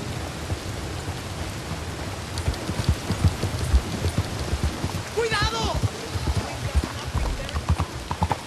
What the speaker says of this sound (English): Heavy downpour rains.